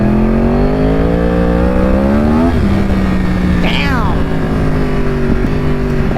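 Yamaha R1 sport motorcycle engine revving loudly and close, pitch climbing through a rising throttle sweep, dropping back, then surging again before settling to a steady drone.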